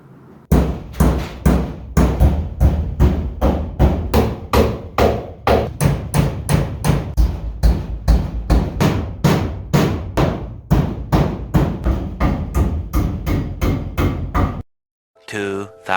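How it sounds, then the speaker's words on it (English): Rapid, steady hammering inside a shop building during vapor barrier and foam board insulation work, with about two dozen loud, close blows in an even rhythm before a pause and a few final strikes. "there was a lot of hammering to be done."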